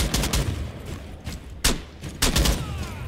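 Gunfire in the video game Rainbow Six: a few sharp bursts of shots ring out over about three seconds, loud and close, with no voices.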